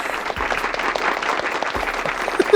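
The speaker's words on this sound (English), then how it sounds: "Applaud me." Applause on a podcast: a continuous patter of clapping at moderate loudness that stays fairly steady, with a faint low hum underneath and no clear voices.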